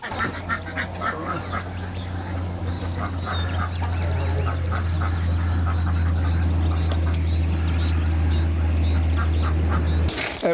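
Ducks and geese quack and honk together at feeding time on a farm, a dense, busy flock close by with a steady low hum running underneath and no one speaking.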